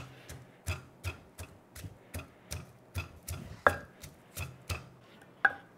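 Garlic is pounded into a mince, likely with a pestle in a mortar, in a Thai kitchen, a slow, steady series of about a dozen distinct thuds at roughly half-second intervals, close and alone.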